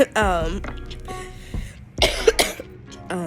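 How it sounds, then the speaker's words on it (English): A few sharp coughs and throat-clearing sounds from someone sick, close and loud, with short pauses between bursts. "case in point by the cough that I could not turn the camera off quick enough for"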